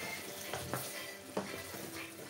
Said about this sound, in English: So I'm gonna stir that again.